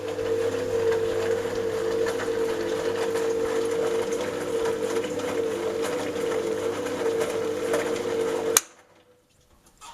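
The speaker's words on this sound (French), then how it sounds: "La machine va passer le cran." An Indesit L5LF washing machine runs with a steady mechanical hum and whirr, then stops abruptly near the end with a sharp click as the timer advances a step, leaving near silence.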